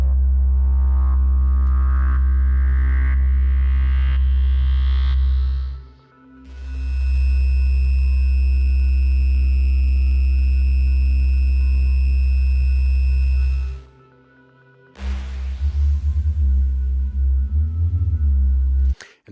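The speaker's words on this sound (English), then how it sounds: "Just a whole bunch of variety of bass swells," Deep synth bass swells from the Nova sample pack, several long sustained tones that rise and fade one after another, heavy low end with a bright, airy layer on top, loud with no voice.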